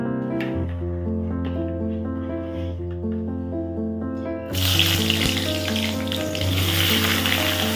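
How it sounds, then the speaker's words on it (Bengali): Pointed gourd (potol) pieces go into hot oil in a pan, set off by a loud burst of frying sizzle about halfway through that keeps going close up after a quieter opening of low background hum. "পটলটা ভেজে নিই"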